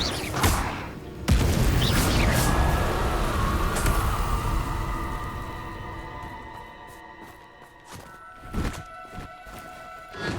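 A Confringo spell explosion in Hogwarts Legacy lands as a sharp, loud boom with a rumbling tail, followed by lingering magical shimmer and scattered clattering impacts that fade out.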